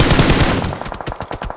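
Rapid automatic gunfire in the battle-royale game PUBG comes in a dense, loud burst, then breaks into separate sharp shots spaced out toward the end. No one speaks.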